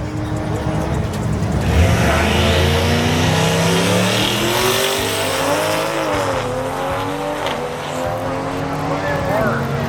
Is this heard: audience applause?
no